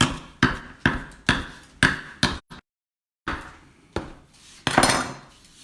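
Fresh pasta dough for tortellini being cut on a board, a series of sharp knife knocks in an uneven rhythm, close and fairly loud, with a brief silent gap midway and a louder cluster near the end.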